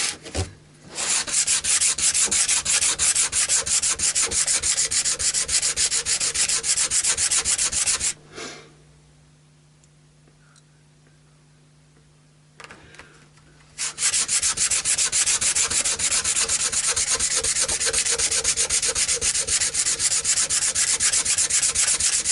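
Sandpaper rubs rapidly back and forth along a Stratocaster-style guitar neck in two long, loud stretches of steady rasping strokes, separated by a quiet pause of several seconds.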